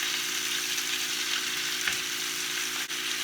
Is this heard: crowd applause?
no